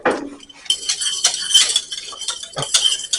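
Metal whisk scraping and clinking steadily against a pan while a condiment is stirred over just-turned-off heat, brisk rhythmic strokes up close with a faint sizzle underneath.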